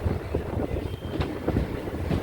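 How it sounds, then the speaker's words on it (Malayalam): A passenger train pulls into Cherthala railway station on the Alappuzha route, its wagons rumbling heavily nearby with rhythmic clickety-clack from the wheels and a steady low roar throughout. "ചേർത്തല റെയിൽവേ സ്റ്റേഷനിലേക്ക് ട്രെയിൻ എത്തിയിരിക്കുകയാണ്"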